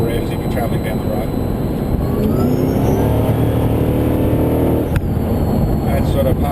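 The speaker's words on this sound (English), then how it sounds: "That's sort of half throttle acceleration." A supercharged Holden VE SSV ute with a T400 transmission revs and pulls at half throttle, building steadily with a brief shift-like break, while someone talks over it.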